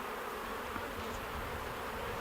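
Honey bees buzz around an opened hive, a steady, close, droning hum that fills the whole moment without pause.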